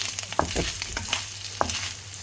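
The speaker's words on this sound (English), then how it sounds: "You don't really need to see me frying the bacon." Bacon sizzles and crackles in a pan, a constant fry with a few sharp pops and spatters, close up over a low hum.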